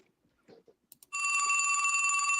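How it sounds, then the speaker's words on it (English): A telephone rings loudly and steadily, with a bright electronic bell tone that starts abruptly after a few faint bumps and continues unbroken to the end. "I feel like the phone's about to ring."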